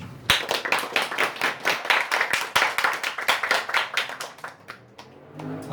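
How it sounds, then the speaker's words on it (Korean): Audience applause at an auto repair shop owner's talk, a steady run of close, crisp hand claps filling several seconds before tapering off at the end. "박수 한번 쳐주십시오."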